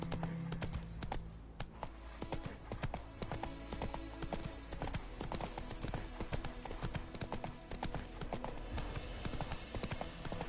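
Roach, a horse in The Witcher 3, trots along: a close, steady clip-clop of hooves repeats the whole time, with light ambient game sound underneath.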